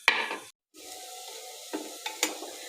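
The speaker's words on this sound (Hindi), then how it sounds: "प्याज को मैं इसके अंदर अब गोल्डन ब्राउन कर लूँगी, भून लूँगी इसके अंदर" Onions frying in oil inside a clay pot, a gentle sizzle broken by a short silence and several sharp scraping stirs against the pot's side, close and without speech.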